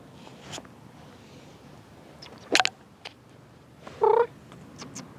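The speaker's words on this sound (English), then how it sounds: "It's a little one-eyed cat." A small one-eyed cat makes soft sounds close by, with a couple of short loud bursts including a brief meow-like call, over a quiet room background.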